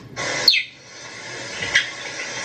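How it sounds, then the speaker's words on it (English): Two sharp, high bird-like chirps from a cheetah ring out, one near the start and a fainter one later, close and clear over quiet background hiss. "the cheetah, which I would take seriously if they didn't sound like this."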